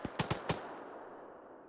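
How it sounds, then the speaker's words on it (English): Gunfire in a military video game, heard as four sharp shots in quick succession that each fade into a short echoing tail. "we're taking heavy fire"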